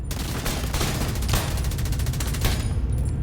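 A steady barrage of rapid automatic gunfire from teammates in the video game Tom Clancy's The Division 2 during a PvP fight, close and continuous with sharp peaks in the volley.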